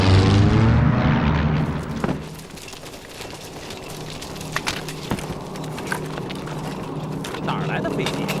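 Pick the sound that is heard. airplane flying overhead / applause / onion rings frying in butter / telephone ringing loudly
airplane flying overhead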